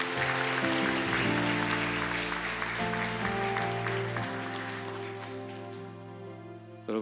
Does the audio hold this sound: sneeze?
no